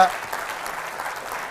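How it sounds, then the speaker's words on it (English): A conference audience claps briefly for a football refereeing talk, a short burst of steady applause that fades slightly. "Give him an applause, please"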